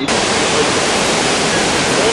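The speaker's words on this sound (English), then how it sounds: "That's the growling sound of water that goes falling from 175 feet above." A waterfall plunging 175 feet roars as a dense, steady wall of rushing water, loud and close, heard from a wet, windy viewing deck without any voices.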